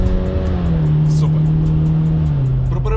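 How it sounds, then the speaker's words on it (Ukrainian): A 2022 Subaru WRX GT 2.4 turbo engine hums with a deep, steady exhaust drone that rises slightly in pitch, loud and close, with no voices. "Вихлоп звучок, дарує драйв, емоції."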